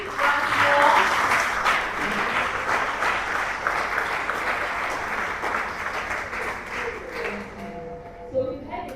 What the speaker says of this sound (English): Round of applause for Dr. Feli